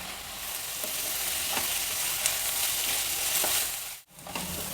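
Onion and fenugreek leaves frying in oil for avalakki menthe bath, a constant close sizzle with soft scraping stirs, briefly cut to near silence before resuming.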